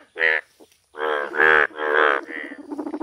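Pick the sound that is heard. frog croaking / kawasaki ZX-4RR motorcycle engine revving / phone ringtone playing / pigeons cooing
frog croaking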